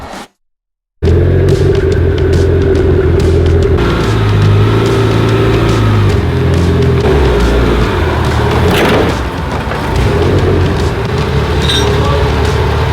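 A tuned Mitsubishi Evo 9 roaring on a dyno in a loud sustained pull, its deep engine drone steady and powerful throughout after a brief quiet start.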